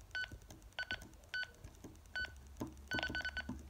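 Short electronic beeps from a Luiton LT-458 walkie talkie as its channels are switched, about a dozen bright tones in irregular clusters, close and clear over faint background hiss.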